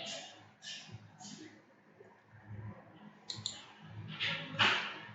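Computer mouse clicks during structural design work, a few light, quiet taps in small clusters with soft background noise between them.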